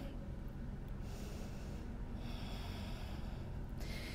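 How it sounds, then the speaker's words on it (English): Deep breathing held during a yoga pose, with the hips lifted toward the sky, heard as heavy close airy inhales and exhales that come in a few long surges over a steady rushing background. "take a few breaths here"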